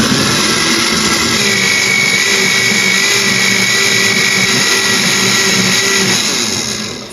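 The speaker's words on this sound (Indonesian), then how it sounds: "Selanjutnya ini akan aku blender sampai halus." A blender runs continuously, whirring loud and steady as it blends pudding ingredients with water, its motor whine holding for several seconds before easing off at the end.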